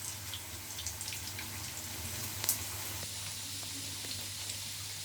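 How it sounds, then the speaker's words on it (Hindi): Chicken kofta frying in a pan gives a steady, moderately quiet sizzle and bubbling hiss throughout, with faint crackles and a low hum underneath. "2-3 मिनट तक ये फ्राई होगा।"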